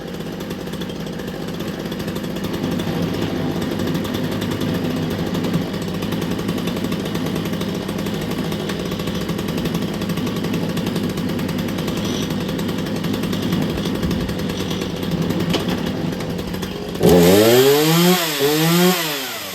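A chainsaw engine runs at a steady, loud drone for a long stretch. Near the end it jumps into a sharp, rising and falling whine of revving.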